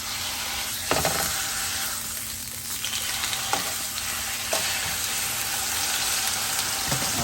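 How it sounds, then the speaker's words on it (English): Beef for a Philly cheesesteak sizzles steadily in hot oil in a pan, a loud, continuous frying hiss with a few brief sharper crackles and no talking. "go ahead and add our beef"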